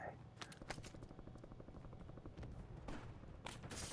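Gunfire in a battle royale video game comes in rapid bursts and scattered single shots, quiet overall, with a low rumbling background between the volleys.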